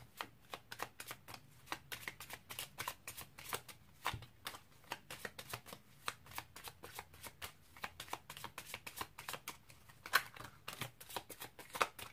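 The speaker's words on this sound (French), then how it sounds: "On va tirer les cartes." Tarot cards are shuffled in a long, quiet run of rapid papery flicks and riffles, close and soft, with no voices.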